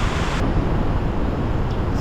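Iguazu Falls roars as a steady, loud wash of broadband noise, with mist and spray falling like rain close by; no voices.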